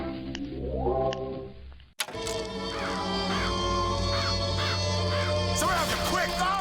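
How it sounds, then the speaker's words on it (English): Murder of Crows power in the video game BioShock Infinite summoning crows, a rising whoosh and sharp burst followed by a dense swirling wash with a series of repeated cawing calls, loud and close. "Summon murderous crows."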